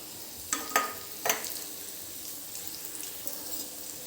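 Garlic peels and garlic paste sautéing in a pan, a soft low sizzle with a few sharp spatters and clinks early on, then a quieter steady hiss.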